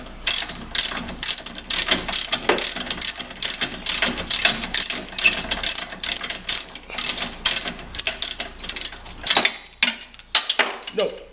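A ratchet wrench clicks steadily as it loosens the spark plug on a Toro snowblower, with a fast, even run of loud, close metallic ratcheting that goes on throughout.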